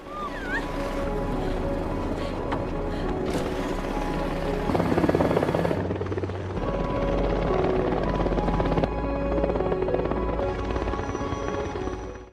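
A UN helicopter arriving to evacuate people in the action film Wolf Warrior, its rotor and engine drone steady and loud for the whole stretch with no voices.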